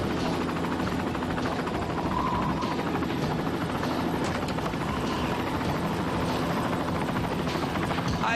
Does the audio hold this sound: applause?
no